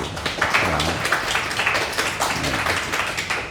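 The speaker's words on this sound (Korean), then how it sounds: "수고했다고 우리 박수." A Korean church congregation at a Sunday service in Dubai claps together, loud, dense applause with sharp individual hand claps, continuing steadily through the clip.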